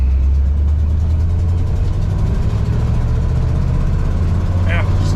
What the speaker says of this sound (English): It's a fun truck to drive, it really is.